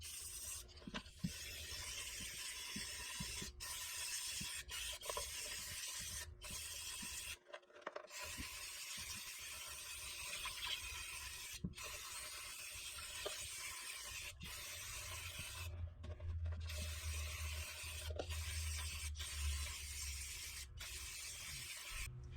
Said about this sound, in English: We're going to start spraying this gunk out of here.